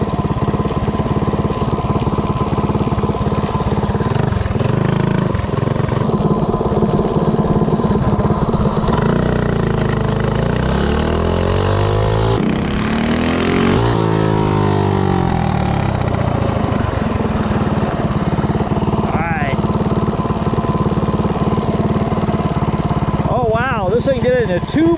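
A Coleman CC100X minibike with a Predator 212 engine and racing clutch revs hard and accelerates, its loud engine note rising and falling in pitch through several sweeps, with a person talking over it.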